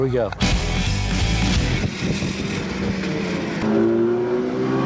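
Race cars are released onto the track, their engines roaring and revving loudly together in a dense, sustained mechanical rumble with pitch rising as they accelerate, and voices faintly underneath.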